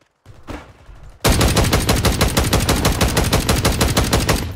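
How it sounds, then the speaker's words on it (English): Rapid gunfire from a sniper rifle in Warzone 3, a loud dense run of evenly spaced shots lasting several seconds after a brief quieter lead-in. "Man, I cannot shoot this thing."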